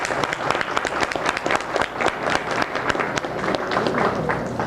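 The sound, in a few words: applause at awards banquet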